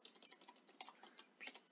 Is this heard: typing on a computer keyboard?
yes